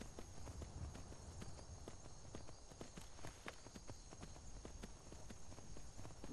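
Horse hooves clip-clop in a steady walking rhythm while riding in the video game Skyrim VR, faint and fairly close, with no talk over them.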